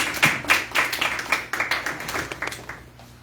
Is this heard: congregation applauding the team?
yes